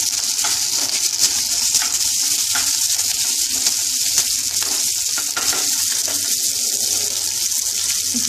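Onion and curry leaves frying in oil with dried and green chillies for a dosa chutney, a steady close sizzle with light crackles and stirring scrapes, no voices.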